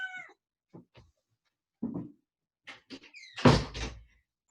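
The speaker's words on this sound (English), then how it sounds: "My cat, hang on, has to be ejected from the room." A cat meows briefly at the start, then quiet shuffling and a door opening and closing with a louder bump near the end as the cat is put out of a room, with no talking.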